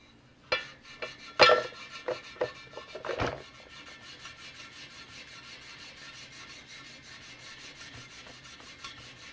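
Brass bristles scrub a vintage Honda motorcycle wheel spoke coated in Colonel Brassy, a burst of quick raspy strokes at first, then a steady softer scratching rub continuing close up.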